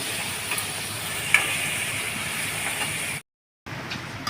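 Onions frying in oil for an egg tikka masala, a steady close sizzle with faint stirring, broken by a short silent gap near the end before the hiss resumes.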